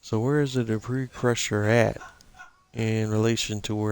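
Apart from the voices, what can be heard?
No everyday noises stand out.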